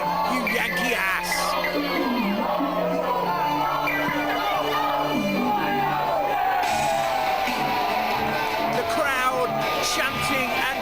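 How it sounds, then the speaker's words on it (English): A large wrestling crowd at an FWA show cheers, whoops and yells for Solid Gold Scott Parker, a dense, loud roar with a rhythmic chant near the start and a voice speaking over it. "Chanting and cheering for Solid Gold Scott Parker."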